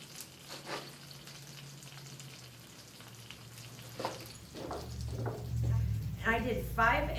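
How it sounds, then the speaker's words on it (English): Hard-boiled eggs fry in a skillet with a soft, steady sizzle, building louder toward the end as a person talks over it. "up next is you fry your hard-boiled eggs"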